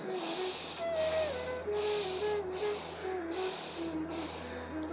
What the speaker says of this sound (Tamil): மெதுவாக மூச்சை உள்ளிடுங்க மெதுவாக மூச்சை வெளியிடுங்க ஒரு த்ரீ டைம்ஸ்